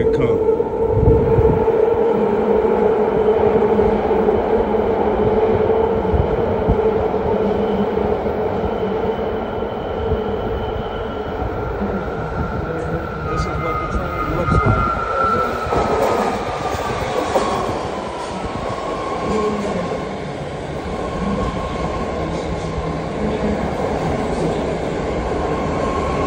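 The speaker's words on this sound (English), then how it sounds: "you guys get to get an early version and view of the train coming" A train pulls into a station in Nairobi, Kenya, with a loud rolling rumble, clattering wheels and brief squeals as it slows, heard close by.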